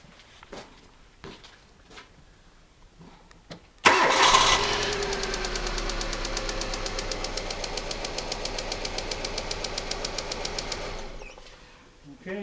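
A car engine with a lab oscilloscope attached to cylinder 1 cranks and fires up, then runs with a steady, slightly pulsing idle before winding down, following some quiet clicks and handling noises.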